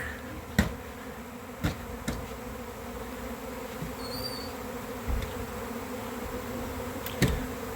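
A honeybee swarm pours out of a hive in an apiary, its steady insect buzz filling the air throughout, with a few sharp clicks and knocks now and then and no talking.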